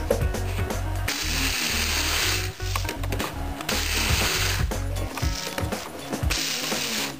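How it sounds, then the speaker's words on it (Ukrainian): A blender motor roars loudly and steadily while grinding seeds into flour, its pitch wavering with the load as hard seeds rattle and grind against the blades. "я його з допомогою ось такого блендера буду молоти в муку"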